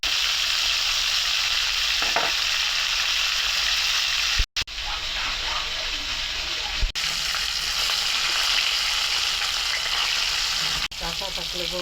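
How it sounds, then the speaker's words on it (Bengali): Tilapia fish frying in oil, a loud continuous crackling sizzle that carries the whole stretch, broken by a couple of brief sharp knocks and pauses and a faint voice speaking low underneath. "আগে মাছটা ভাইজে নিতেছি।"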